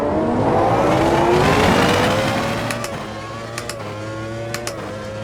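A race car engine in the Automobilista 2 sim racing game accelerates loudly and close, its pitch climbing through the gears with a brief dip at a shift. Faint clicks and knocks sound underneath.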